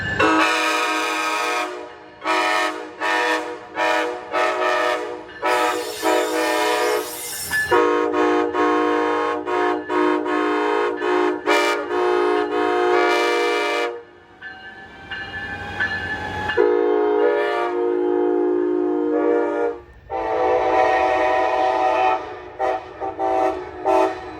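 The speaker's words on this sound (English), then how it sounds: "it's what causes some Charger horns to sound almost like steam whistles when going from their low horn to their high horn" A Siemens Charger locomotive horn blasts repeatedly and loudly in long and short bursts, overblowing from its low chord to its high one so that it sounds almost like a steam whistle, with a quieter rumble in the brief gaps.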